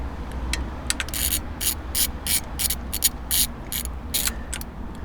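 Ratchet clicking in quick bursts while frame slider bolts are tightened on a Kawasaki Z H2 motorcycle, sharp close pawl rattles separated by short pauses over a low background hum.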